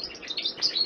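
A pet bird sings excitedly at a running fan, giving rapid, high, close chirps and tweets in a short busy burst.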